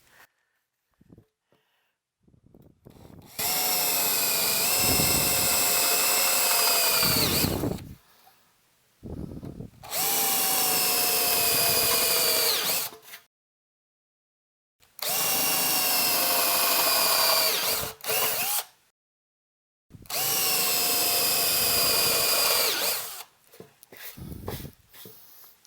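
A power drill bores holes through an amplifier chassis for a tube amp build. Four loud, sustained whining bursts of several seconds each are separated by short silences and quiet handling clunks.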